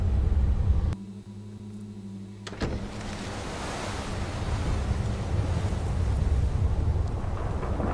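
Gusting wind in the video game Beyond: Two Souls swells into a steady, broad whoosh after a brief motor whir, continuing loudly to the end.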